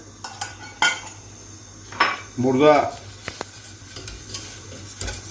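Utensils scrape and clink against a pot of milk at a low bubbling boil while it is stirred for baked rice pudding, with a brief spoken word in the middle.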